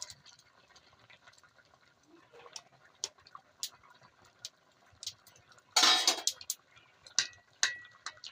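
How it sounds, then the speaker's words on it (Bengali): Boiled green mango being mashed in a pot, heard as scattered soft clinks and taps of a utensil against the metal, with a louder scraping burst midway and quiet pauses between strokes. "আমটা ভালো করে ঘেটে নেব"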